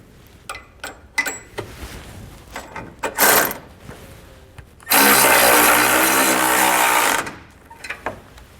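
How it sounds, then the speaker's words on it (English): Tow hook bracket bolts for a Blue Ox base plate on a 2012 Ram 1500 are tightened with a 19mm socket: scattered metallic clicks, then a loud, sustained powered whir of about two seconds, then more clicks. "we're going to take a 19mm socket and just snug these down"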